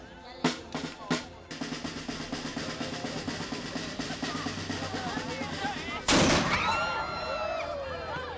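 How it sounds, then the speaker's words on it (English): Two sharp booming cannon shots go off close together in Cuba, followed by rapid crackling bursts and a final heavy blast, with voices faintly mixed in. "When a cannon is launched into the ocean"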